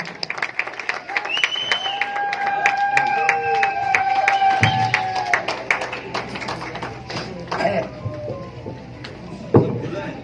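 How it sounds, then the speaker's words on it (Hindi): An audience claps steadily over music at an RCM recognition celebration, the applause rising and then tapering off, with a voice briefly heard above it. "मिस्टर हरपाल सिंह, आपकी जोरदार तालियों के साथ।"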